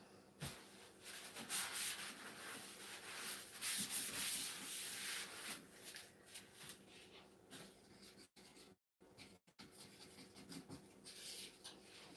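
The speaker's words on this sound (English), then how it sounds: "scrape the bottom all around the sides, stir it back and forth just to make sure it's all properly mixed" Resin mix being stirred in a cup gives soft, repeated scraping and rubbing strokes, quiet and close, with a couple of brief silent gaps.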